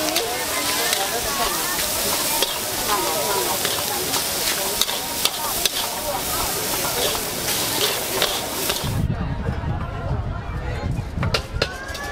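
Fried rice and oysters sizzle and get stirred in a wok at a busy seafood stall in Hatyai, southern Thailand, with a steady loud hiss and clatter running throughout under crowd chatter and talking voices.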